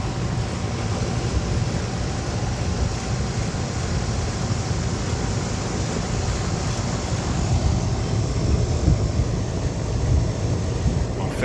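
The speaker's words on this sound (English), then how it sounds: "Fan motor is blowing at normal speed and we're above freezing." A Goodman air conditioner condenser fan motor runs at normal speed on an R410A system, giving a steady, loud broadband whoosh of moving air with a low rumble and no breaks.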